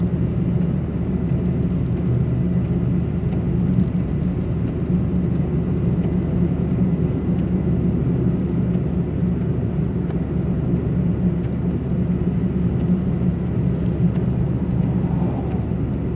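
A 2024 Mitsubishi Mirage in sport mode coasts downhill at 3,000 RPM with no throttle on a mountain drive, giving a steady, droning engine and road rumble heard from inside the cabin without pause.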